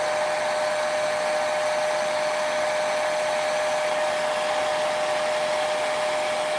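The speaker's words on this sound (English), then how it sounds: "having the hair dryer is a quick way of moving things along." A hair dryer blowing steadily on airbrushed acrylic paint on stretched canvas, a continuous loud whooshing whine with a steady high-pitched tone and no pauses or voices.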